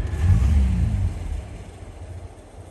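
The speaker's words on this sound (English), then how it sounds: "Turn the key on and simply hit the starter button." A 1950 Jaguar Mark V engine turns over on the starter button and catches with a loud, deep rumble, then settles into a steady idle that gradually quiets.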